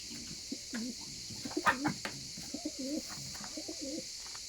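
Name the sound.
King pigeons cooing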